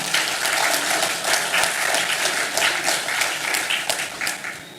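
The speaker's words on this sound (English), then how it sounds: "I think they deserve a round of applause for that initiative." Audience applause at the opening of a Taiwan–Saint Lucia trade show, a dense, loud run of clapping with crisp individual claps standing out, easing slightly at the very end.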